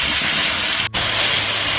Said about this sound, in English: I'm going to fry this in oil. This is a non-stick pan